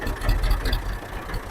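A tractor engine idles steadily with a low, rumbling throb, close and continuous throughout without any talk over it.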